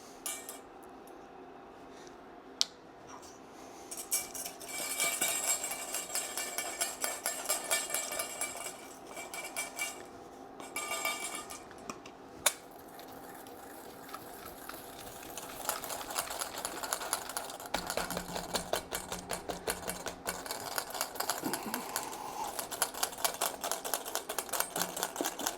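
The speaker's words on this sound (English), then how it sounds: "Anytime you're whisking into a stainless steel bowl, good idea to have a damp towel." Wire whisk beating thickened cornstarch pastry cream in a stainless steel bowl, a steady, rapid metallic scraping and clinking that runs nearly continuously at close range with brief pauses.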